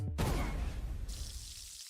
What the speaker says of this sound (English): That is the sound of bacon sizzling